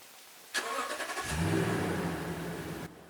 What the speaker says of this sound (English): hook up the truck to the battery and start the truck